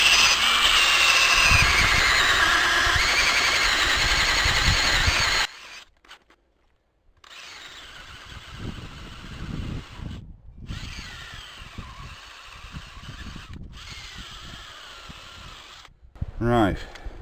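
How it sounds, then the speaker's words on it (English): A battery drill spins a wire brush against a 2006 Ford Mondeo Estate TDCi brake carrier, a loud scrubbing whir for about five seconds, then shorter bursts with pauses between them. "first I'm going to try an electric drill"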